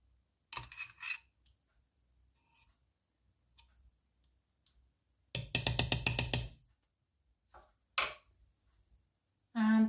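A metal spoon clinks and scrapes in a bowl while coating sweet potato fries, with scattered light taps early on and a denser burst of rapid clatter in the middle, then a few isolated knocks near the end.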